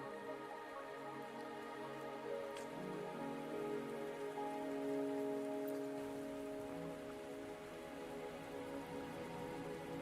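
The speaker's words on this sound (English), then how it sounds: "Are you trapped here by the rain?" Steady soft rain in the video game Wuthering Waves patters on a surface throughout, low and even, under a faint background tone.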